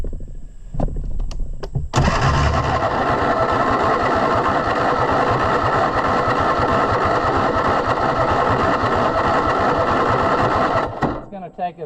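A zero-turn mower engine gives a few short cranking bursts, then catches and runs steadily and loudly with a fast, chattering pulse for about nine seconds before cutting out abruptly.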